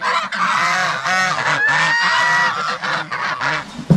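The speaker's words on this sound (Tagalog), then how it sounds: "Yung mga gansa natin, malayo sila makalabas dito." Several geese honk loudly and repeatedly nearby, overlapping nasal calls in a noisy, continuous chorus.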